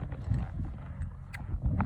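A horse's hooves thud and shuffle close by as it spins around during a pressure-and-release training session, giving a quick, irregular run of dull beats on the ground.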